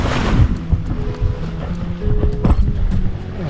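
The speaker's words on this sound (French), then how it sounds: "9 nœuds de vent." Wind of about nine knots buffets a sailboat at sea on an Atlantic crossing, making loud, gusty rumbling and flapping noise close to the microphone, with occasional knocks.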